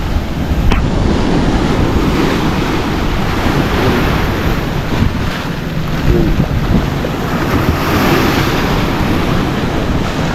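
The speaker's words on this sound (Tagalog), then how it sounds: "Grabe lakas ng alon." Strong ocean waves crash on the shore with a loud, continuous roar and surging wash, mixed with wind buffeting the microphone.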